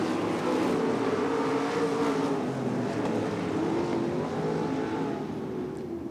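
IRA Lightning Sprint cars racing on a track, a sustained droning engine roar with a shifting pitch as the cars run together, loud and continuous with no voices.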